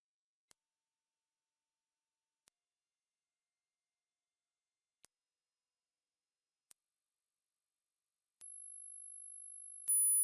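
A steady, piercing high-pitched pure sine tone, starting near 20,000 Hz, that steps slightly lower in pitch every couple of seconds, alone with no other sound.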